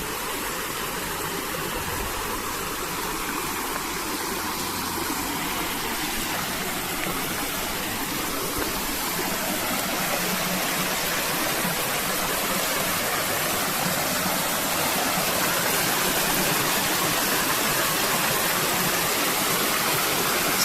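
Water pours steadily over an old weir beside an overflow channel, producing a loud, constant rushing roar that stays even throughout with no voices.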